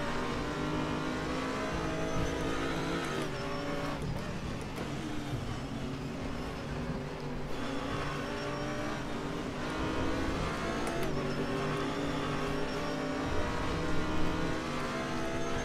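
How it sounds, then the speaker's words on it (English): Race car engine from the RaceRoom Racing Experience video game drones steadily and loudly, holding a sustained high-revving tone with brief shifts and dips, with no talk over it. "Definitely a fun little car to race."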